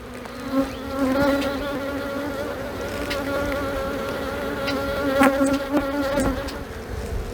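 Honey bees buzzing around an opened nuc hive during an inspection, a steady close hum with overlapping wing tones and a few sharper passes and knocks, no talking.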